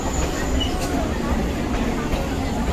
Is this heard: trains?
yes